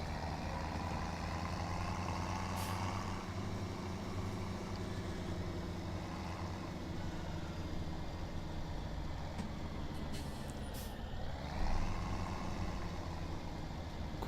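A Case tractor pulling a trailer in Farming Simulator 17, a steady low engine drone that runs throughout with a slight rise near the end, and no talk.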